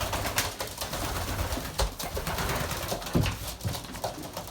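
Pigeons coo in breeding season around a feeding area, with low, throaty calls under a noisy outdoor background and scattered thumps and rustles.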